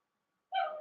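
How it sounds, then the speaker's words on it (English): A dog gives one short, sharp bark or yip, close by and sudden after silence. "they bark every time that they hear a sound."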